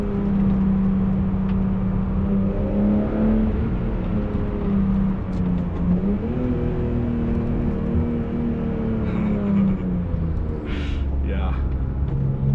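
A BMW E36 M3 GT engine drones steadily from inside the car while driving, a constant loud rumble with shifting pitch as it revs, with a voice talking over it throughout.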